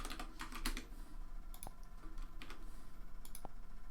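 Quiet, close clicks of keys on a computer keyboard as a short password is typed, a few quick irregular bursts of tapping over a faint steady room hum.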